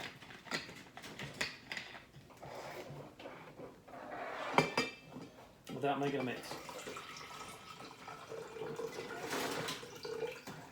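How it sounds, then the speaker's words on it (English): A cup of water is poured into a glass jar at a kitchen table, with a short splash and some clinking of glass under a person speaking. "we're going to pour this into our glass jar."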